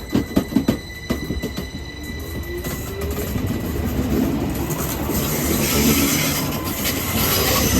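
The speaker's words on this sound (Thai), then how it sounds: "ตอนนี้กำลังนั่ง รถไฟขึ้นเขา" A mountain railway train climbs uphill, with steady rumbling wheels on track, rhythmic clacks and a faint squeal, heard from inside the carriage and growing slightly louder toward the end.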